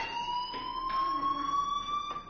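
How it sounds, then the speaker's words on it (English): A fire alarm rings inside the video game Life is Strange: a steady, piercing electronic tone with bright overtones that holds continuously and fairly loud for the whole stretch, with no voices over it. "do you hear that fire alarm?"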